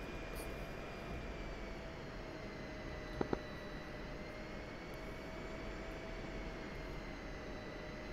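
An F-16 Viper jet taxiing in a flight simulator game gives a steady, faint engine whine and hiss under a constant tone, with a couple of sharp clicks partway through.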